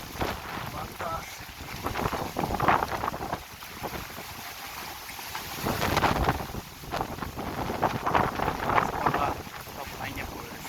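Strong wind blows over a rain-flooded village in surging gusts that buffet the microphone, rising and falling several times with a loud, rough roar.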